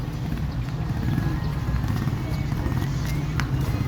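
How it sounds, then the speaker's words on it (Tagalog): Many horses clip-clop together on a street in Vigan, Ilocos Sur, their hooves a steady overlapping patter beneath constant crowd chatter and nearby talk. "napakaraming kabayo"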